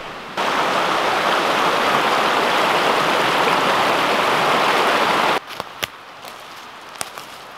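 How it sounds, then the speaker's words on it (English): Water flowing in Jackson Creek, a steady loud rushing wash beside a campsite that cuts off after about five seconds, leaving quieter background with a few sharp clicks and taps. "Got the creek off to my side here."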